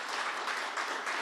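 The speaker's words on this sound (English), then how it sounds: "if we could give a round of applause for that work" Brief, steady burst of audience applause at a New York political address, dense and even throughout with no voices on top.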